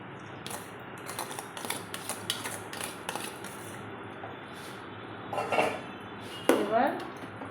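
Rice and vegetables are stirred in a pan for cheese fried rice, with a spatula tapping and scraping in irregular clinks and a couple of louder knocks over low kitchen background.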